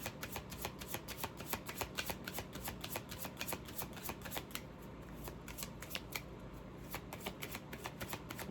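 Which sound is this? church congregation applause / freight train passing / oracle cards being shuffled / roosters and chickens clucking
oracle cards being shuffled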